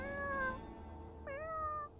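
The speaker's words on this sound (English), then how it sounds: "I was shocked to hear meowing coming from under my bed" A cat hidden under a bed gives two soft, short meows, close and alone, separated by a brief pause.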